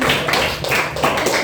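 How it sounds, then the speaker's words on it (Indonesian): A small group in a classroom claps in an uneven patter of hand claps, close by and fairly loud, with no talking over it. "beri tepuk tangan untuk"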